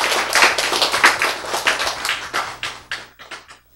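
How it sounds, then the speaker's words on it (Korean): An audience at a church sermon claps in a quick, steady burst of sharp hand claps that slows and fades toward the end, with no talk over it. "박수!"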